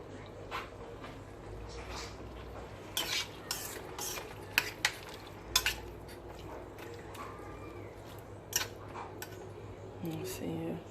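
Cabbage being stirred into a pot of Haitian-style legume and lima bean rice, with repeated scraping and clinking of a utensil against the pot over a steady low kitchen hum, a few louder knocks standing out.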